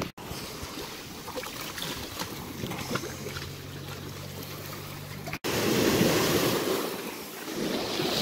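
Ocean waves washing onto a beach on Grand Turk, a steady broadband surf wash with wind buffeting the microphone, briefly cutting out then returning louder and closer.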